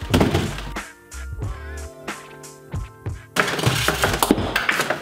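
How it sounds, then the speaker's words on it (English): Ice clatters and thunks as it is loaded into a DIY styrofoam air conditioner, giving irregular knocks and tumbling rattles that end in a longer burst of pouring ice, close and fairly loud. "Now I'm gonna load it up full of ice and see how well it works."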